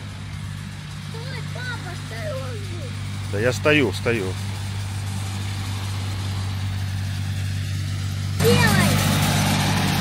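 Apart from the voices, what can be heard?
tractor engine cleaning the beach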